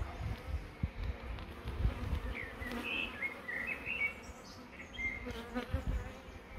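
Honeybees hum around their hive in a dense, continuous buzz, with a few individual bees droning closer now and then.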